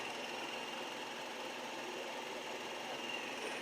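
Electric grinder running on high while grinding pistachios fine, a steady whirring motor drone held continuously at close range with no pauses.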